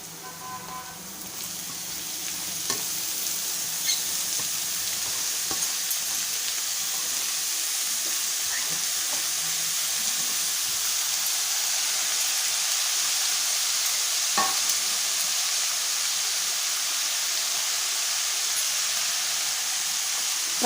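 Chopped fenugreek leaves sizzle and hiss steadily with softened onion in a hot pan for a Malvani-style methi bhaji, a continuous close frying sound with occasional stirring clinks.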